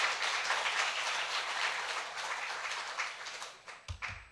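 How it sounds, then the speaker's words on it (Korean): A church congregation applauds the children at a Sunday worship service, a dense, steady wash of many hands clapping that fades out, followed by a few scattered taps. "대단히 박수 한번 쳐주세요."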